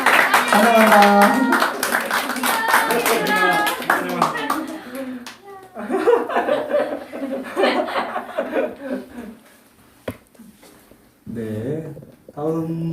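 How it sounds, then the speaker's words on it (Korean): A church congregation at a Tuesday worship service claps to welcome new students, a brisk burst of clapping mixed with laughter and chatter, with people talking over and after it. "저희 신입생 왔는데 박수 한번 했으면 좋겠습니다"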